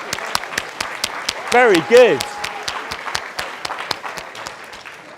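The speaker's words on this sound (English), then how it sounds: "Round of applause." A classroom of students applauding a classmate with a steady run of brisk claps, while a teacher speaks briefly over the clapping.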